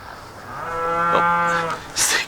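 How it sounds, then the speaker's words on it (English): A cow at a dairy farm gives one long, loud, drawn-out moo, close by and clear, with no talking over it. "Oh, cows. There's a dairy farm right next to us."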